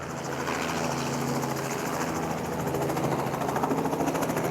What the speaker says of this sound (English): that's a production R44 coming in